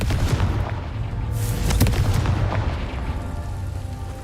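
Confringo fire spells fired in the Hogwarts Legacy video game burst out as a series of booming explosions, several thuds and blasts overlapping in quick succession at moderate loudness.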